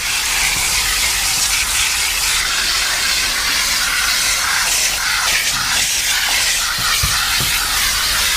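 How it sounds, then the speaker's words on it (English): Steam cleaner jetting onto an interior panel of a 1990 Honda Civic, a loud, continuous close hiss with slight sputtering and a few faint knocks underneath. "hit it with some steam"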